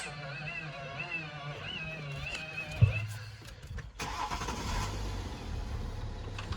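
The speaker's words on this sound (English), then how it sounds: "I am gonna turn the engine on, let it run for a second or two" A BMW F15/F16 X5 or X6 engine cranks and catches, then settles into a steady low idle, close by, with faint talking in the background.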